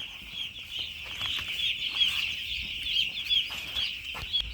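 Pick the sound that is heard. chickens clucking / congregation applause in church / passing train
chickens clucking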